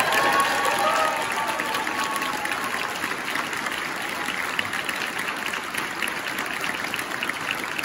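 A crowd at an event for a Sacramento County district attorney claps in a dense, sustained burst that starts loud and then settles into steady applause, with a faint voice at the very start.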